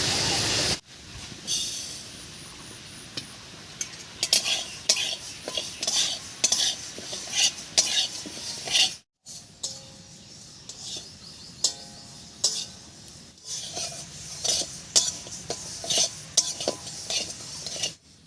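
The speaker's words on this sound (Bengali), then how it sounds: "এবারে শুকনো খোলায় বিউলির ডালটা ভেজে নেবে" Dry urad dal roasting in a dry pan on a village stove, with a steady run of scraping and clinking as a spatula stirs the grains against the metal, loud and close, with brief pauses and no talk.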